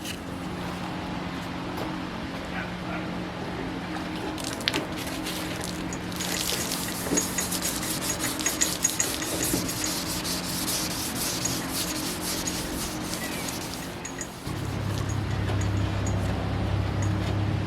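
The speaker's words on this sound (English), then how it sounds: "I'll go ahead and scuff this whole thing up with 400 grit" Repeated rubbing strokes of 400 grit sandpaper wet sanding a Toyota Yaris body panel, a steady close scuffing that grows busier midway, over a low constant hum with no talk.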